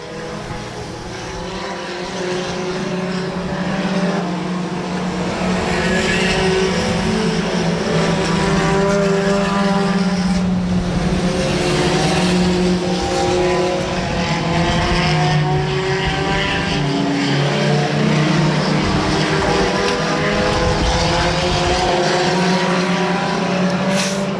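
Race cars on the dirt oval at Electric City Speedway during an A-Main feature, their engines a loud, continuous roar that swells and fades slightly as the pack circles, with no voices.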